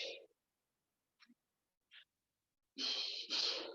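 Heavy exhalations from someone working through a kickboxing ab exercise, with a couple of short faint puffs early on, then two loud, long, forceful breaths close by at the end.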